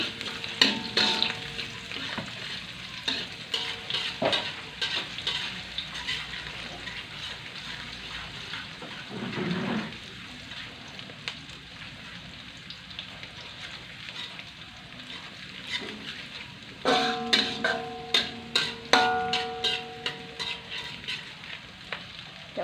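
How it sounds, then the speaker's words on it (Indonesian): Sliced shallots fry in a pan with a low steady sizzle while a spatula scrapes and clacks against the metal in bursts of repeated strokes, close and unhurried. "Masukkan bawang merah, dioseng-oseng dulu."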